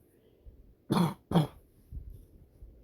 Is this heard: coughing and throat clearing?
yes